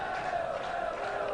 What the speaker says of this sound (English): There's a cheer coming from the cadet student section.